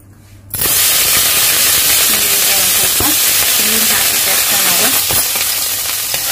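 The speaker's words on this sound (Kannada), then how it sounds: "ನೋಡಿ ಒಂದು ಸ್ವಲ್ಪ ಎಣ್ಣೆ ಹಾಕ್ತಾ ಇದ್ದೀನಿ." Oil poured onto a very hot non-stick tawa, heated on a gas stove for tomato dosa, bursts into a loud, steady close-up sizzle after a brief quiet start and hisses on without a break.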